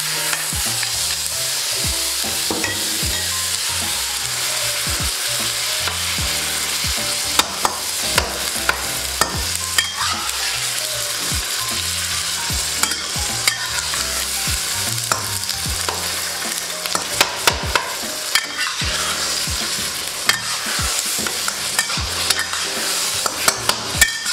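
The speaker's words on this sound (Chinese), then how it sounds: "鸡蛋翻炒完后，加入番茄，" Eggs and tomatoes stir-fry in a pan with a continuous loud sizzle, while a spatula scrapes and clacks against the metal in irregular strokes throughout.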